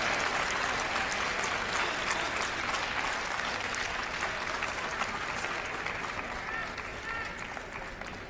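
A table tennis audience at the 2015 US National Championships quarterfinal breaks into loud, sustained applause after a long forehand rally, with clapping that tapers slightly near the end and a voice talking over it.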